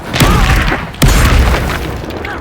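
An Incendio fire spell from Hogwarts Legacy bursts out in two loud, deep whooshing blasts about a second apart, booming close with a rushing fiery roar trailing off.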